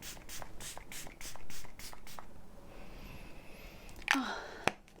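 Rare Beauty 4-in-1 face mist sprayed from its bottle, a soft hissing spritz after a run of quick rhythmic pumping clicks, close and fairly quiet, followed by a couple of sharp handling clicks.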